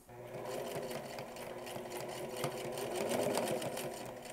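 Sewing machine stitching the final bottom waist seam that joins a jacket lining to its shell, a steady close mechanical whir running throughout.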